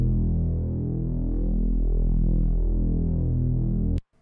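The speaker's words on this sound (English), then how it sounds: "So for example, I got this Reese bass in here." A thick, buzzing bass synth note throbs steadily with a slow wobbling texture, then cuts off abruptly near the end.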